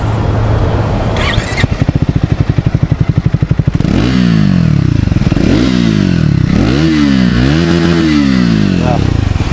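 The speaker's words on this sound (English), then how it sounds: "Let's have a look at the exhaust note." A Triumph Thruxton 400 motorcycle idles with a rapid, steady exhaust putter, then revs hard several times in rising and falling bursts, loud and close.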